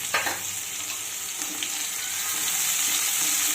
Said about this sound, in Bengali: ফোড়নটাকে একটু ভেজে নিয়ে এবার দিয়ে দেব অল্প একটু পেঁয়াজ কুচি